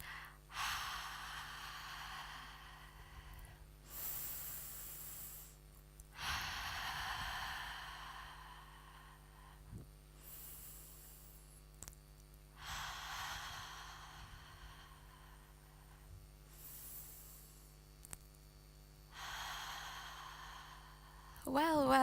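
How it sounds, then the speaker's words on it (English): A group breathes together slowly into a microphone during a performance, with long, airy inhales and exhales rising and falling about every five seconds over faint background hum. "Let's breathe together for 30 seconds."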